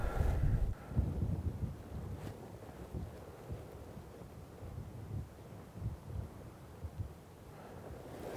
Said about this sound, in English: This wind's blowing about 20 miles an hour